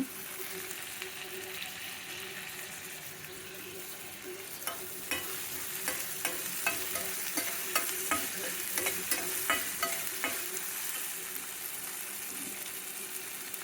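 Ginger-garlic paste frying in a pan with onions and green chillies for masala vermicelli, giving a low continuous sizzle, with a run of light, regular stirring clicks in the middle.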